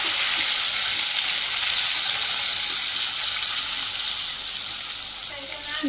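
Pointed gourd (potol) frying in a pan during village-style Bangladeshi home cooking, a loud continuous oily sizzle and hiss close up, steady throughout with no voices.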